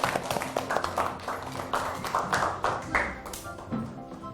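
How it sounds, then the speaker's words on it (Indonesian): Children in a primary school classroom clap together in a short burst of uneven, close claps, with brief taps and a little background chatter. "Yuk kita tepuk tangan untuk Farel."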